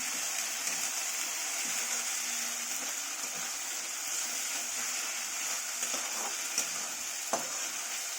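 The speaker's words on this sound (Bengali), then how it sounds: "ভাজা হচ্ছে।" Spices sizzling and frying in a hot pan, a steady broad crackle with occasional stirring clinks and scrapes, close and continuous with no talk.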